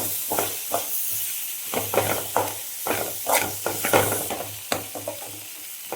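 Onion and tomato with salt sautéing in a pan, a constant sizzle under repeated rhythmic scrapes and knocks of a spatula stirring, close and moderately loud with no talking.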